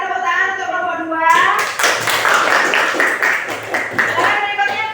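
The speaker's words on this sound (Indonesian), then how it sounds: "Silakan tepuk tangan untuk kelompok 2" A classroom claps for a student group after their presentation, a burst of hand clapping that starts abruptly after a voice and continues for several seconds, with children's voices mixed in.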